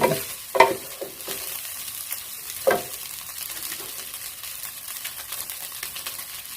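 Cold cooked rice being stirred and pressed apart in a pan with shrimp paste chili sauce, giving a low steady sizzle broken by a few sharp scraping clacks of the utensil, near and with no talk.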